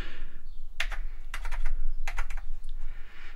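Keys are pressed on an Atari 1040 STF computer keyboard, several sharp clicks in small irregular clusters, close and clear over a low steady hum.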